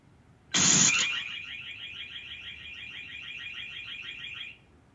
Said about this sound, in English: Orb setting off alarm.